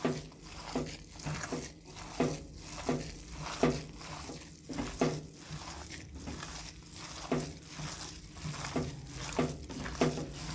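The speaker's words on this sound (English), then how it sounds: "So in a mixing bowl, we are going to mix our mixture of onions, colored capsicum" Chopped onions and colored capsicum tossed together in a mixing bowl, giving soft, repeated scraping and rustling strokes in an irregular rhythm, close and fairly quiet.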